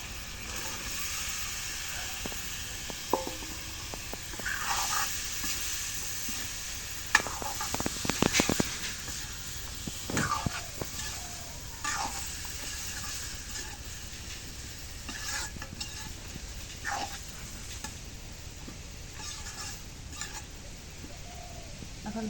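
Vegetables, including potato and pointed gourd, stirred into masala and dried fish sautéed in oil, giving a steady sizzle with scraping stir strokes, louder clattering bursts around the middle, and no talk.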